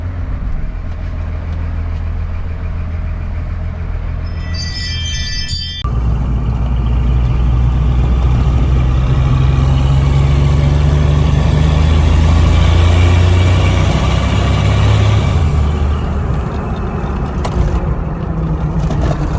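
A Cummins 5.9L diesel in a King Ranch truck idles close by with a heavy, steady low rumble that swells and settles slightly over time, with faint sounds in the background.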